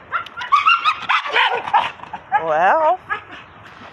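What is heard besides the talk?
dog barking and whimpering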